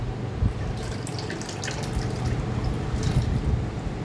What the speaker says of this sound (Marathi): गहू पण आपले छान भिजलेले आहेत तर हे आता आपण स्वच्छ धुवून घेऊया